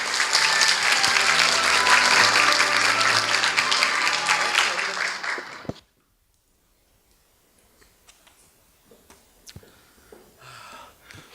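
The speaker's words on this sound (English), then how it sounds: "Please welcome him with a big round of applause." Loud, dense audience applause at a KOICA-JICA volunteer forum fills the first half, then stops abruptly, leaving a quiet room with scattered faint knocks and rustles.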